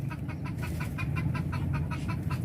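Native chickens, including a small rooster, cluck in a steady rhythmic series of short, close calls lasting a few seconds with no talk over them.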